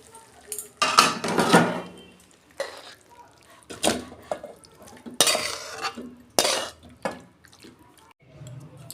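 Bottle gourd greens with ground mustard and poppy seed paste are poured into a pan and stirred. Scraping and clinking of a utensil against metal comes in irregular bursts, with brief wet sloshing in between.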